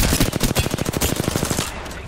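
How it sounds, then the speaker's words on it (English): A fast, loud automatic weapon in Apex Legends rattles off a rapid burst of evenly spaced shots for under two seconds, then cuts off abruptly. "I am taking fire."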